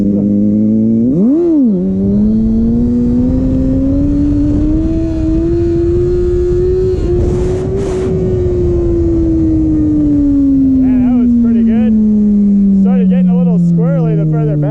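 Kawasaki ZX6R motorcycle engine heard up close as a loud, sustained drone, with a quick blip of revs near the start, pitch slowly rising and then falling, and several short throttle blips toward the end.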